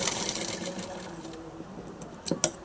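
A sewing machine stitches lace onto a silk saree with a steady, fast mechanical whir and needle chatter, running close, then ending in a few sharp clicks and knocks.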